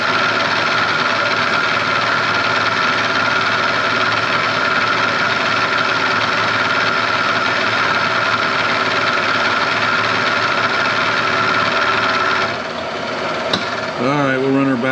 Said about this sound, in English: Got a nice new sharp 3/4 inch carbide end mill in here.